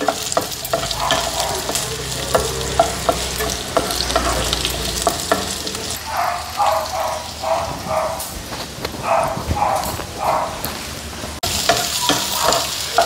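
Ingredients for homemade chilli chicken sautéing in a pan, a steady sizzle with repeated scraping and clanking as a spoon stirs, close and continuous, with a dog yapping faintly in the background partway through.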